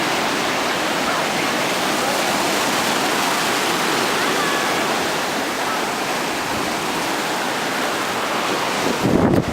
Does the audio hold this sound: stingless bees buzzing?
no